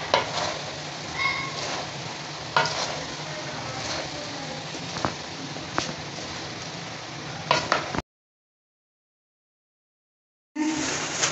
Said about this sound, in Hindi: अब इसको मिक्स कर रही